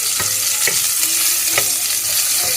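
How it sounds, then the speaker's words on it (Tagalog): Aromatics sautéing in a pan for sinigang, a constant close sizzle broken by several sharp spatula scrapes at irregular intervals as they are stirred, with no voices. "halu-haluin lang natin ng konti para hindi masyado masunog yung ating uh, ah, ginigisa"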